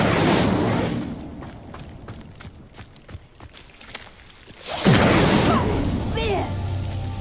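Incendio fire spell in the Hogwarts Legacy video game setting a pyre alight, a loud burst of flame that roars and crackles, dies down to quieter embers, then flares again in a second whooshing surge.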